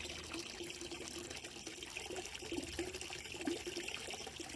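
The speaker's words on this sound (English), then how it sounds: "you can see the water spraying in there now. Nicely through the spray bar." Pond pump pushing water through a spray bar, giving a steady, soft hiss of splashing and trickling water that runs on without a break at low volume.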